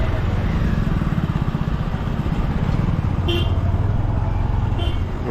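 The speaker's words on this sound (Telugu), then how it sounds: "పల్లె వెలుగు బస్సు" A Palle Velugu bus rolls past in town traffic with a steady low engine rumble, and two short horn toots cut through it near the end.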